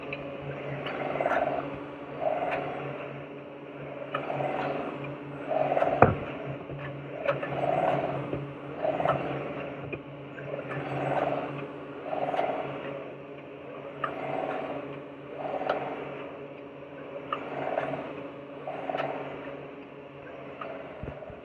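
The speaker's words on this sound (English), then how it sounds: "as that printhead goes across and it's laying down that little 1/4 inch of ink" A UV printer's printhead sweeps back and forth laying ink onto a yard sign, a faint mechanical whir that repeats in regular passes every couple of seconds, heard alone.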